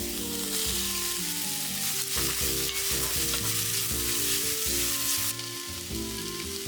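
Thin noodle-like strips of Samjin square fish cake being stir-fried in a wok with scallion oil, a loud hissing sizzle with scraping and tossing noises, close, over background music.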